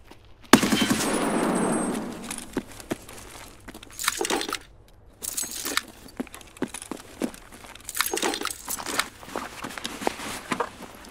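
Bursts of PKM machine gun fire in Escape From Tarkov, a loud opening volley followed by scattered short rapid strings of shots and sharp cracks, with gaps of quieter ambience between.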